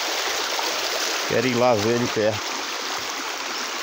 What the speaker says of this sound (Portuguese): Vou mostrar o riacho ainda.